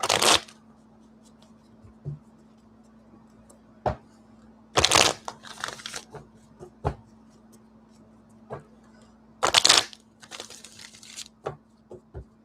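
A deck of playing cards is shuffled in several separate bursts, each a quick riffling flutter, close and crisp, separated by quiet pauses with occasional small taps.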